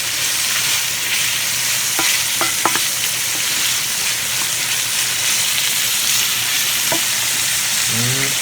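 Buttery scrambled eggs with cayenne frying and browning in a pan make a steady, close sizzle throughout, with a few light stirring or scraping knocks breaking through and no talking.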